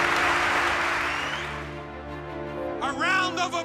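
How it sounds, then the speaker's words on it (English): A large crowd at a Chabad emissaries' gathering applauds, a broad clapping wash that fades out over the first couple of seconds while a sustained musical tone continues, then a voice speaks near the end. "A round of applause for the whole wide world."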